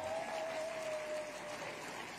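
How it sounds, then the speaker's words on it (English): Applause from an awards ceremony audience, steady and fairly quiet, lasting a couple of seconds with no speech, a faint tonal whine running through the first half. "Please give her a round of applause."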